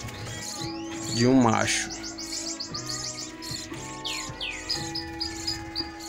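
Budgerigar chicks in a nest chirp in quick, thin tweets and rising calls, heard close and steady while someone talks over them.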